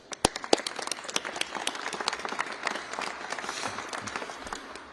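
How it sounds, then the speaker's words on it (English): A room full of people applauds at a Minneapolis mayoral news conference, dense clapping that stays steady for several seconds without speech. "Would you please give him a warm round of applause?"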